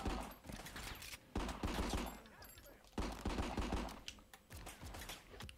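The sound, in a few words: gunfire in RICO video game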